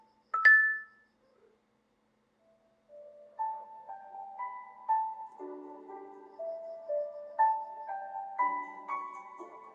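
An Honor Pad GT Pro tablet's speaker plays a short chime and then a simple melodic run of clear, bell-like notes, fairly quiet and thin.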